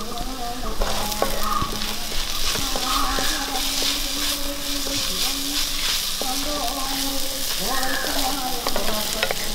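Curry leaves and onion frying in a pan with ginger garlic paste for a Kerala tapioca and egg dish, a loud steady sizzle with occasional stirring scrapes and clinks.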